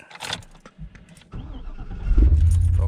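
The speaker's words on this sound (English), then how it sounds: "I'll start this bad Larry back up and leave the heat on" A 1973 Ford F250 truck cranks over in freezing sub-zero cold, the starter churning briefly before the engine catches and settles into a loud, low rumble close by.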